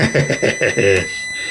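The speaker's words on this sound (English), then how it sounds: "I'm just going to touch that. We get a beep. There we go. We got continuity." A multimeter continuity tester beeps with a thin, steady tone as its probes touch a via on a SEGA Mega Drive II board, largely covered by someone talking over it.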